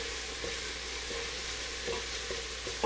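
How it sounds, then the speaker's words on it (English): Garlic sautéing in a pan for a tomato-based vegetable soup, a soft continuous sizzle punctuated by regular spatula scrapes and taps, fairly quiet and close, with no talking. "just saute that around"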